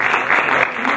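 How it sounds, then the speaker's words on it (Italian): A crowd at a moto club's 50th anniversary celebration gives a burst of steady, close applause for the fathers being honoured. "questi papà meritano un applauso."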